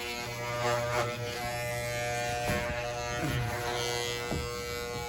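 Worn-out old electric hair trimmers buzz steadily and close up while cutting a short haircut, with a continuous droning hum and a few brief clicks and scrapes along the way.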